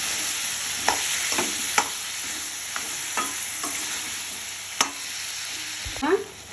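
Tomato pickle mixture with beetroot stirred in a frying pan, a steady soft sizzle with scattered scraping clicks of the spoon against the pan, close and without talk.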